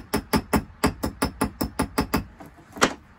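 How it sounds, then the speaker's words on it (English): Ball peen hammer tapping a rivet on a chainsaw chain: about a dozen crisp, close metallic taps in steady rhythm, a short pause, then one louder final strike. "you can tap on it without the risk of hitting the other rivet"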